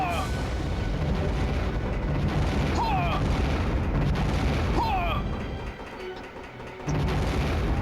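Grenade explosions in the Star Fox Assault video game rumble as continuous booming blasts under dense game noise and whistling effects, with a brief dip near the end before the din resumes.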